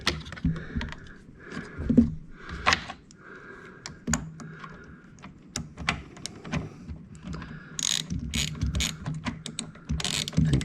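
A ratchet clicks in quick rapid bursts while tightening bolts on a BMW E36 engine, close and crisp, with short pauses and some light mechanical clatter between runs; no talk.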